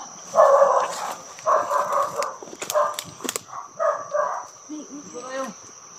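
Dogs bark near a rural house on a rainy day, a series of short yelping barks in irregular bursts, mid-distance, over steady insect or cricket buzz, with brief talk near the end.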